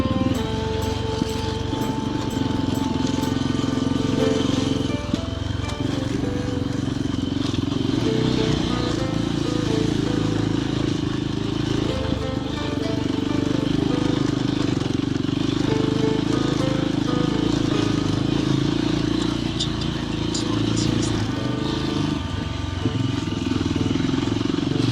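A motorcycle engine runs steadily on a road in Morocco, a loud continuous drone with rattling and wind buffeting throughout, no clear talk over it.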